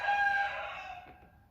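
A cockerel, shut in, crows once, a loud drawn-out cock-a-doodle-doo that fades away, heard at a moderate distance with no speech.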